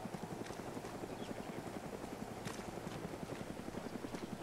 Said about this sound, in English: Bravo troops, get into that chopper behind me.